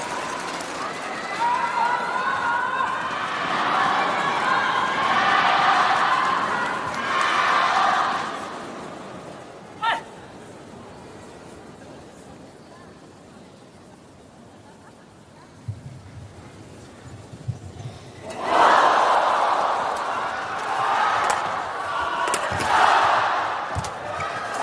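Badminton crowd at a quarter-final of the 2024 Asia Championships cheering in loud surges, with a quiet lull in the middle before another roar rises, commentators talking over it.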